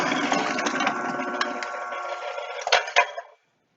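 A food processor slices product laid sideways in its main hopper into long strips, making a steady close motor whir with a faint clatter. The machine winds down and stops near the end.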